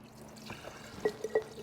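Water drains out of the bottom end of a Honda CL90 engine, a soft trickle followed by a few faint, close drips and splashes.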